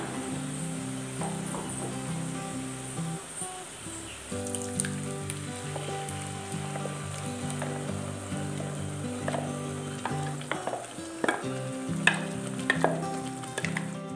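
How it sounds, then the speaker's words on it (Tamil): Steady sizzling of masala frying in hot oil over medium heat for a fish curry, with occasional stirring scrapes and clinks throughout. "இதை மிதமான சூட்டில் எண்ணெய் பிரிஞ்சு வர வரைக்கும் வேக வச்சுக்கோங்க"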